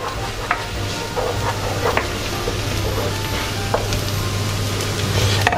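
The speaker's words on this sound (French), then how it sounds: "et le fromage. Beaucoup de fromage. Et on va laisser ça fondre" Plenty of cheese melting with cream over Käsespätzle in a hot pan, giving a steady soft sizzle with occasional stirring scrapes, close and continuous without talk.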